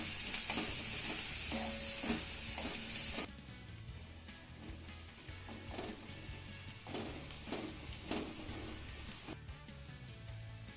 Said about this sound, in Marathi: आता हे घातलेलं बेसन पीठ आपल्याला एक मिनिटभर चांगलं परतून घ्यायचं आहे